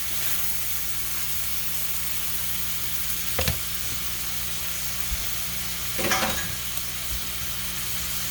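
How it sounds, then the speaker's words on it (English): Onions fry in a pan toward translucency with a quiet, even sizzle. Two brief stirring scrapes stand out near the middle and later. "you want to cook these onions until they're translucent"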